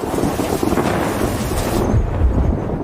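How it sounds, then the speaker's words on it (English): Heavy rain pours outside in a steady, loud broadband hiss, with a deep thunder rumble swelling near the end; no voices. "As rain pours heavily outside"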